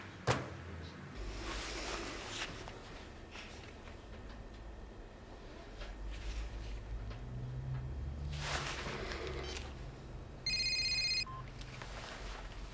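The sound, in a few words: telephone ringing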